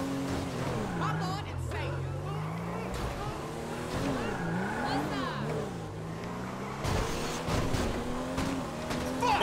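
A car in GTA V drives along with its engine revving up and down in wavering pitch, steady throughout and fairly quiet, with occasional tire noise and voices talking over it.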